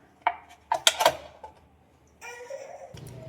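A plastic bottle is cut at home: a few sharp, close clicks and crackling snaps in quick succession, then a quieter pause and a scraping, rasping stretch of plastic being worked.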